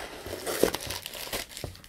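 Packing paper crinkles and crumples in close, quiet bursts as an apparel parcel is unwrapped, with soft rustles in between and no talking.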